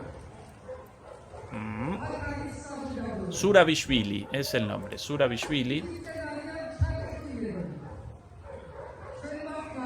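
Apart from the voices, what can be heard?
dogs barking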